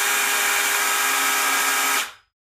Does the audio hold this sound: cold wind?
no